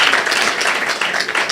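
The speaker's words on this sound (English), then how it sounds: "we need to have a round of applause for all of us" A crowd at an African women in media awards event gives a round of applause, a dense, steady wash of many hands clapping loudly and close throughout, with no talk over it.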